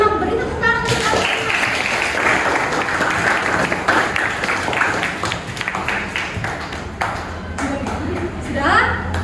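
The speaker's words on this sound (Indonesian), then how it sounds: "Beri tepuk tangan untuk kalian." Students in a classroom break into applause, a dense burst of clapping lasting several seconds that fades and then swells again near the end, with voices mixed in.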